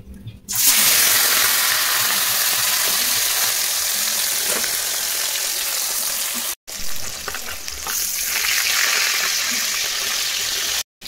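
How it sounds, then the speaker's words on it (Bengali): Pieces of rui fish frying in hot oil over a lowered flame, a loud, continuous crackling sizzle close by, broken by one brief silent cut partway through, with no talking. "এখন ফ্লেমটা একটু কমালাম মাছ ছাড়ার জন্য"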